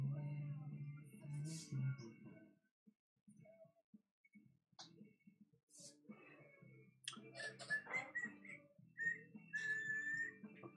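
Faint whistling of a song tune, thin wavering notes that come in short phrases toward the end, mixed with scattered soft clicks and quiet background noise.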